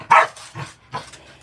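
A dog barks loudly and close by, three sharp barks spaced across a second and a half with no other voices.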